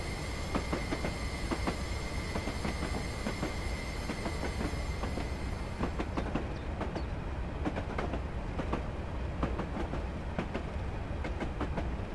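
A Class 37 locomotive rolling along the West Highland Line in Train Simulator 2015, with steady rail rumble, rhythmic wheel clicks and thin high squealing tones, continuous and moderately distant with no talking.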